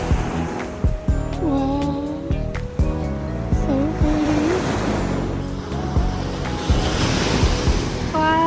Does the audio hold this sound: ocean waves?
yes